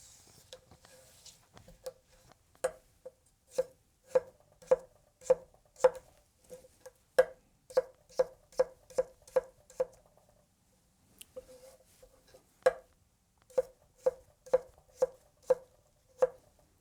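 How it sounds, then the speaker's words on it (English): A chef's knife push-chopping pepper and cucumber on a board, giving crisp, evenly spaced close thuds in two runs of steady rhythmic chopping with a short pause between them. "You can see by the push chop that I did with the pepper as well as with the cucumbers"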